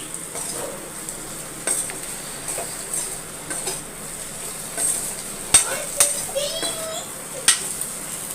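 Potatoes roast in a pan for a tamarind-rice and sambar meal, giving a faint steady sizzle with scattered stirring scrapes and a few sharp utensil clinks near the end, while distant voices murmur faintly in the background.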